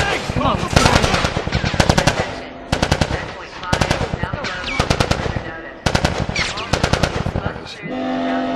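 Bursts of rapid automatic gunfire from The Last of Us ring out in repeated loud volleys, separated by brief gaps, with shouting voices and an alarm-like tone near the end.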